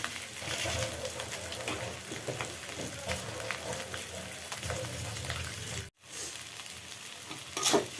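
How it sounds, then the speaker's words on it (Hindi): Potatoes frying in a pan for samosa stuffing give a steady, close sizzle with scraping stir sounds, broken by a brief silent gap near the end. "ये जो हमारा आलू है अच्छी तरह से फ्राई हो गया है"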